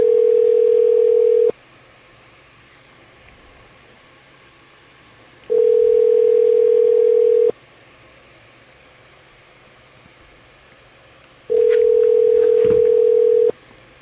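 Telephone ringback tone on a call: three identical steady beeps, each about two seconds long, separated by roughly four-second gaps of low line hiss.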